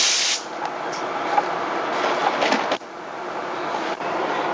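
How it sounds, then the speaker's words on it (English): An air-compressor-driven soda blaster sprays in a steady, loud hiss at close range, briefly cutting out and resuming a few times. "I'm going to use soda blasting now that I have a decent compressor"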